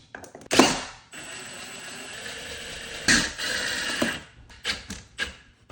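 Power screwdriver driving screws into a speaker mount in a media room, several short whirring bursts of varying length separated by pauses, close and fairly quiet.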